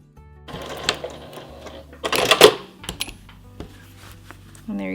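A sewing machine stitches along the edge of a fabric bowl cover with elastic inside, running in short uneven bursts with mechanical clicks and clatter, close and fairly loud.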